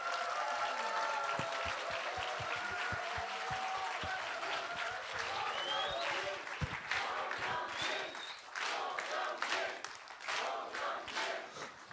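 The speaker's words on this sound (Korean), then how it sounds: "힘찬 박수로 맞이해 주십시오." Vigorous audience applause welcoming former party leader Song Young-gil at his book launch, with sharp individual claps, crowd shouts and cheers, thinning toward the end.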